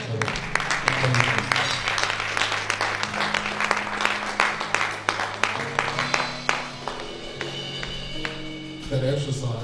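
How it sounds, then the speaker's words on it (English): A congregation at a celebration-of-life service claps their hands in a dense burst of applause, loud and near, fading toward the end, with a voice speaking over part of it. "Come on, give God a hand clap."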